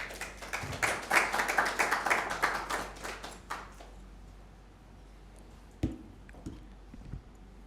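An audience at an Independence Day poetry gathering breaks into brisk applause that builds, then thins out after a few seconds into near silence, leaving a couple of isolated late claps and faint shuffling.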